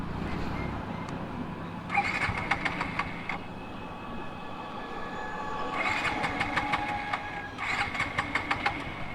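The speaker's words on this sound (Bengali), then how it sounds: "আচ্ছা আমরা আরেকবার ট্রাই করে দেখি যে স্টার্ট নেয় কিনা" A Suzuki Gixxer 155 motorcycle engine being cranked in repeated bursts of rapid starter clatter, three attempts separated by pauses over a low idle-like rumble outdoors, with no talking.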